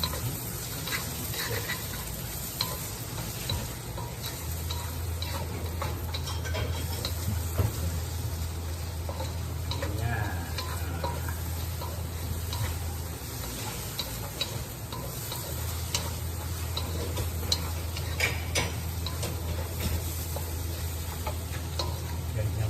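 Eggs frying in a pan give a steady, soft sizzle under a low hum, with faint scattered ticks and occasional stirring scrapes throughout, heard close and without speech.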